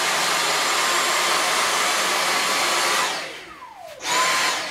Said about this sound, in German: wenn ich jetzt mal den Boden staubsauge ein bisschen